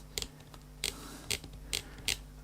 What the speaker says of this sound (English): A very, very fast shutter.